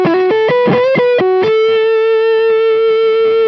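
Electric guitar heavily distorted through two effects pedals, a few quick picked notes and a short riff, then one thick note held and sustaining, loud and close.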